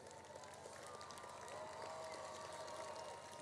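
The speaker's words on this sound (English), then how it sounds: "I would like the students to clap for their parents." Students at a 2024 international school graduation ceremony applaud their standing parents, a steady wash of many hands clapping across the hall, faint and continuous, with some voices mixed in.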